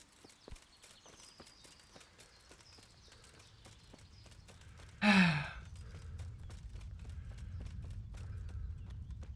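A horse in Kingdom Come: Deliverance clip-clops along at a steady walking pace, soft hoofbeats joined briefly midway by a loud breathy snort or sigh before the walking continues.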